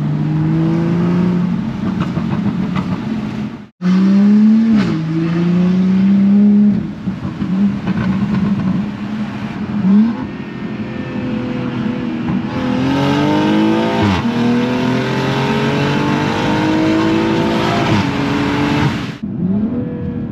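A BMW M340i with its B58 engine revs and accelerates loudly and up close, rising harmonic sweeps climbing through repeated gear pulls, with a brief cut near four seconds and no talking.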